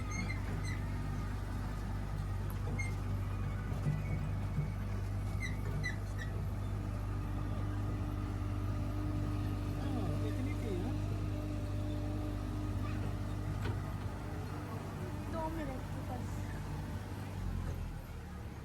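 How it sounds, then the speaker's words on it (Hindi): A tractor engine drones steadily and close by during a short ride around a country park, a continuous low rumble with no pauses from start to finish. "और यहाँ पर होती है हमारी ट्रैक्टर राइड ख़त्म।"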